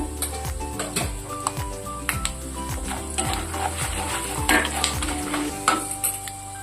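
Mustard seeds and cumin frying in oil in a pan, a steady sizzle with rapid popping and crackling plus occasional clinks of a utensil against the pan.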